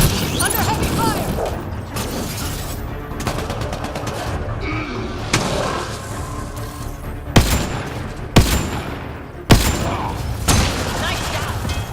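Video game gunfire, rapid bursts and sharp single shots over a dense, loud battle din, with several heavy cracks near the end and in-game voices calling out.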